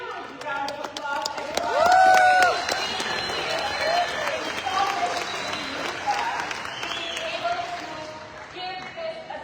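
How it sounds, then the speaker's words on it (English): A crowd at a company update event applauds and cheers loudly, with whoops and shouts rising early and then settling into sustained clapping alongside voices. "Give yourself a huge round of applause"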